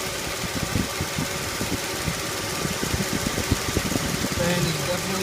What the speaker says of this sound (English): Fan is definitely spinning.